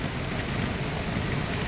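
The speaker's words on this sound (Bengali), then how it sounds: "বৃষ্টি হচ্ছে প্রচণ্ড।" Heavy rain falls steadily in the mountains near Gaurikund on the Kedarnath trek route, a loud, continuous broadband wash with no breaks across the short stretch.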